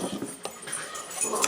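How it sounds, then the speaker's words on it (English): Dogs fighting and whimpering in the background, with short, high yelps and whines in quick bursts, faint and somewhat distant in a home kitchen. "I have dogs that are killing each other once again in the background here"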